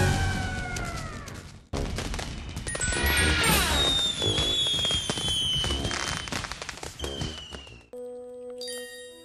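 Fireworks at a Dutch New Year celebration, dense loud bursts of crackling and bangs with whistling rockets rising in pitch, continuous for several seconds, then a sudden cut to a quiet musical tone.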